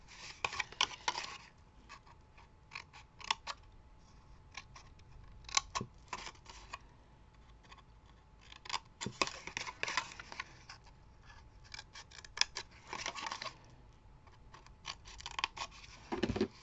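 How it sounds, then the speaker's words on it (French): Scissors cut paper or cardboard while making a simple box, giving close, crisp snipping clicks in quick uneven bursts separated by short quiet gaps, with no talking. "Et là, on va venir découper ici."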